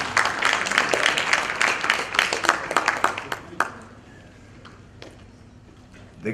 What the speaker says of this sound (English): Let's give Michael Goodman a round of applause